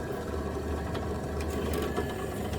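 Drill bit running a 6.8 mm hole into mild steel, ready to tap an 8 mm thread on a custom Harley chopper part: a steady, continuous motor whir with a faint cutting grind, even in level throughout.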